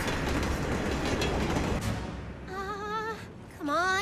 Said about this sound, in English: The train's coming back!